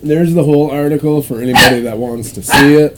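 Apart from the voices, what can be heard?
dogs barking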